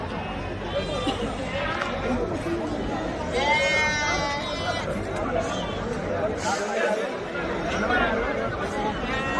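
Goats bleat at a livestock market selling goats and kids, several wavering cries rising over a busy crowd of chattering, bargaining voices, with people talking close by throughout.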